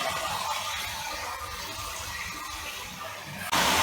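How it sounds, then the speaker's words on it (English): Water poured or sprinkled into salted mutton cooking for a Chettinad-style fry, a steady watery gushing hiss that runs through and stops abruptly near the end. "Just sprinkle a little bit of water, not too much."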